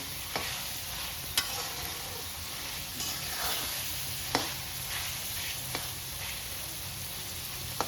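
Tomatoes sautéing in a pan for Hungarian beef goulash, a continuous close sizzle broken by occasional sharp clicks of a utensil stirring against the pan, with no talk over it.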